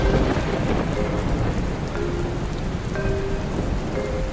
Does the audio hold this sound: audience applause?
no